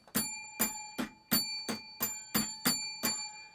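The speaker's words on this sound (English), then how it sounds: "That was my bell song." A bell strikes eight times in a steady rhythm, each ring bright and ringing with a sustained metallic tone, close and alone with no talk.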